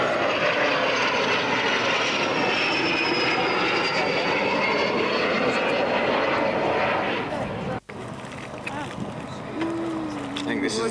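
An aircraft passes loud and close at the 1992 Boscombe Down airshow, flying in formation with its gear up. A sustained engine roar carries a slowly falling whine, drops out for a moment, then resumes with a rough, lower drone.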